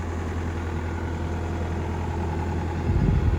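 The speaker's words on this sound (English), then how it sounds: "This is the Terex TLB840 backhoe loader, stock number 45." A Terex TLB840 backhoe loader's diesel engine idles with a steady low rumble close by, rising slightly toward the end.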